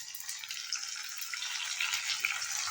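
Ginger and garlic masala sizzles in a pan as tomato paste goes in for kadhi pakora, a steady bright frying hiss running close and unbroken with no voices.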